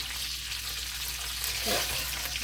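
Steady, close sizzling of food frying in a single pan for Chinese cooking, continuous throughout with a brief stirring disturbance partway through.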